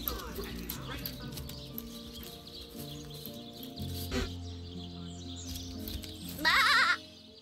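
Sheep bleating in the fantasy role-playing game Divinity: Original Sin, a few wavering bleats over a steady game music bed, with one louder, closer bleat near the end.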